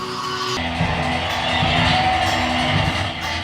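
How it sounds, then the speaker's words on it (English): Live crowd cheering and shouting at an event where a puzzle artist battles a Rubik's Cube, a dense steady roar of mixed voices that swells after a brief lull and holds at a loud level. "The crowd is going crazy"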